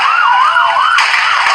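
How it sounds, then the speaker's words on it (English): An ambulance siren wailing as the vehicle arrives at a crowded street celebration, loud and close, its tone sweeping up and down before switching abruptly to a faster, harsher pattern. "when the ambulance came"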